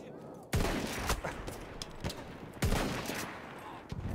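Gunfire in the video game Battlefield 1: two loud broadband shot bursts, each followed by ragged continuing fire and crackle, with no talk over it.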